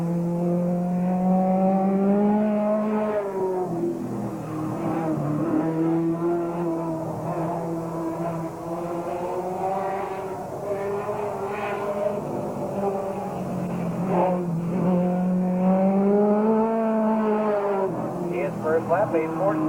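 A race car runs laps on a 1987 Ohio speedway, its engine droning and rising and falling in pitch as it circles, while an announcer talks over it nearly the whole time.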